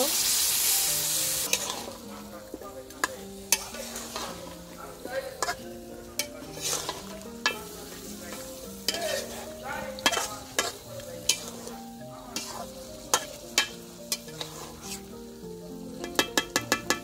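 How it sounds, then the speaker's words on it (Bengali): Desi chicken meat being stirred and fried in a pot over an outdoor stove on a windy day, a steady soft sizzle broken by irregular scraping clinks of a spoon against the pan, close and alone. "এখন অল্প পরিমাণ পানি দিয়ে আবারও কষে নিব।"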